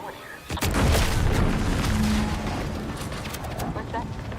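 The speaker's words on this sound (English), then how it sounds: "What's that? An explosion?" A deep explosion in Outer Worlds 2 booms suddenly, then rumbles on with a long loud roar, while a voice speaks over it.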